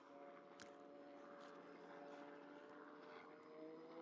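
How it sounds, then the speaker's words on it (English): A helicopter passes over a baseball field at Jackie Robinson Field in Pasadena, heard as a faint, steady engine drone with a few small sharp sounds nearby. "Another helicopter swinging on by."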